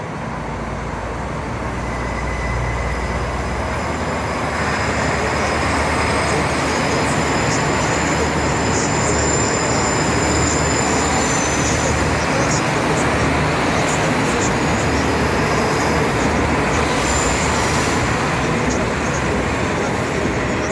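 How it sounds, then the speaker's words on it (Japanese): A KiHa 66/67 series diesel railcar on the Seaside Liner rapid service departs elevated Nagasaki Station, its engine note rising into a steady, loud rumble and roar that holds throughout, with faint higher tones above it. "快速シーサイドライナーキハ66、67系が発車いたします。"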